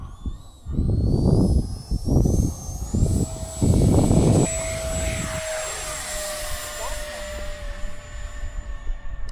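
An E-flite Habu XS 80mm electric ducted-fan RC jet screams past at high speed, a rising then falling whine that holds steady. Someone talks over the start.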